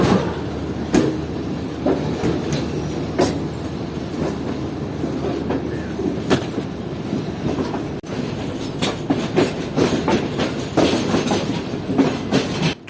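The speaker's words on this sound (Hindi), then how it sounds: "हमारी ट्रेन निकल रही है प्लेटफॉर्म नंबर 1 से" A train pulls away from platform 1 at a railway station, wheels clattering in a steady clickety-clack rhythm with occasional sharp squeals and knocks, continuous and fairly close, with no talk.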